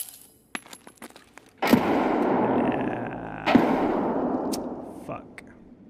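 Two grenades explode in Escape from Tarkov on the Labs map, each a loud, sudden blast trailing into a long rumbling decay, preceded by light clicks and handling noises.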